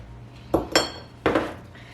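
A spoon clinks and scrapes against a cup or bowl while sugar, cocoa powder and milk get stirred into a paste, three or four sharp close knocks spread across a quiet moment.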